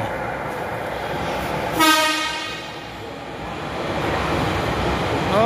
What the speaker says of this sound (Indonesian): Ini LRT yang akan kita naik.